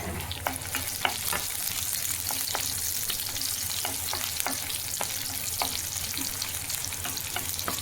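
Crushed garlic frying in a hot pan for dosakaya tomato pachadi, a steady close sizzle dotted with sharp crackles and pops throughout.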